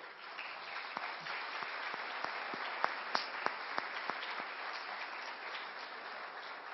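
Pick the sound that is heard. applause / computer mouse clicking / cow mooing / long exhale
applause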